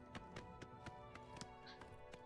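Hoofbeats of Shadowmere, an undead horse in The Elder Scrolls IV: Oblivion Remastered, a quick run of distinct clip-clop strikes at a trotting rhythm, fairly close and moderately loud, with game ambience underneath.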